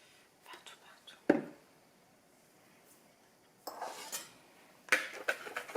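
A utensil clinks and scrapes against a bowl while chocolate red bean cake batter is stirred, with a sharp knock near the start and bursts of scraping later, separated by quiet gaps.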